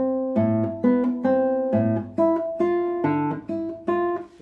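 A guitar etude played with abrupt, disconnected bass notes. Separate plucked notes and chords come at uneven intervals, each with a sharp attack and a quick decay. The playing is close and clear, with no voices.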